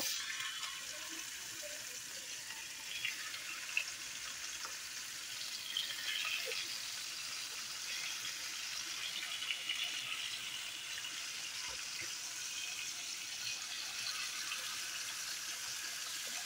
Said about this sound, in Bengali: আমার তেলটা গরম হয়ে গিয়েছে, আমি একটা একটা করে মাছ দিয়ে দিব।